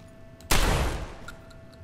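A single loud gunshot blast from a gun in the video game Fallout 4 cracks out and rings into a long decaying echo, with no voices over it.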